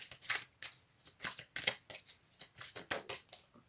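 Oracle cards shuffled by hand for a reading, a quick run of crisp riffling flicks in steady bursts, close and fairly quiet, with no talking.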